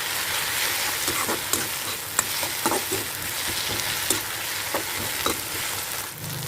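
Fish head pieces fry in a hot pan for a fish head and taro curry, a steady close sizzle broken by scattered scraping stirs and soft spatters.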